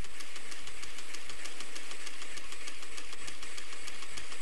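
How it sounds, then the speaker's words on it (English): An unloaded magnet motor runs alone and close by, with a fast, regular pulsing knock over a bright, steady whir that keeps a constant rhythm throughout. "now I've just got the motor without a load on it"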